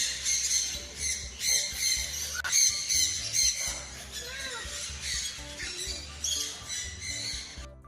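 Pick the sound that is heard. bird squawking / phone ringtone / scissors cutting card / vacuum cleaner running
bird squawking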